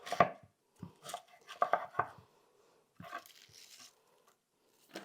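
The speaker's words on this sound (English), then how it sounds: "I'm going to cut it lengthwise, about in half, and then run my knife through it." A knife chops cabbage into bite-sized pieces on a board, several crisp close thuds in short bursts separated by brief pauses.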